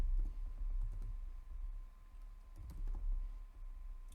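Steady typing on a computer keyboard while entering a name for an EC2 key pair, a continuous patter of soft, close key clicks at an even pace.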